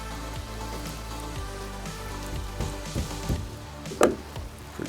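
Rain falls steadily outdoors during the building of wooden deck stairs, a constant dense patter with scattered knocks and a sharper hit near the end.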